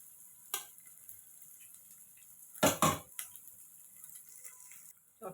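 Onions and other egg dal ingredients softening in a pan, a quiet, steady sizzle broken by a few louder close stirring scrapes and clatters of a spoon against the pan, with no voice.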